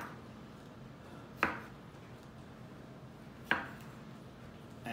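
A knife cuts cherry tomatoes in half on a board, two separate sharp taps about two seconds apart over faint room hiss.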